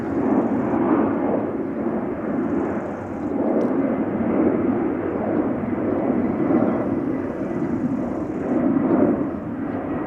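A DHL Airbus A300-600 freighter takes off at Amsterdam Schiphol, its engines a steady, fairly distant low rumble that stays even throughout with no talking.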